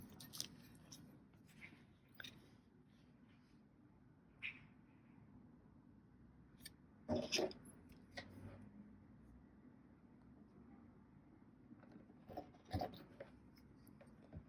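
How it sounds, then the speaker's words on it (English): A pencil is drawn along the edge of a metal tool on scrap paper, making quiet scratchy strokes, with a few soft taps and rustles between them. "just line up your metal tool right to the edge of your scrap paper and draw a line"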